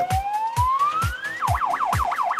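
An ambulance on an emergency call in city traffic sounds its siren close and loud: a rising wail that switches into a rapid yelp, over a rhythmic low thumping.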